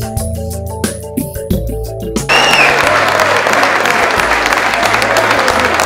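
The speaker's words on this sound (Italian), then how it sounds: "All'arrivo dei messicani, i neocampioni del mondo di Fronton, si leva un applauso generale." General applause from a crowd greeting the arriving Mexican fronton world champions at the 2004 world pallapugno championships, a dense, steady wash of clapping that swells in after a short stretch of music and carries on loudly.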